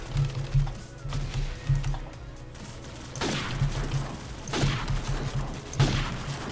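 Mounted machine gun in Call of Duty 4 on PC firing in short bursts of rapid shots, a few separated volleys over a steady low game hum, moderately loud and close.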